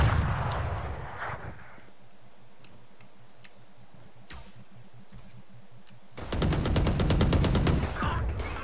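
Gunfire in the video game Valorant: a dense, rapid burst of automatic shots rings out near the end after a quiet stretch of scattered clicks, loud and close with no talk over it.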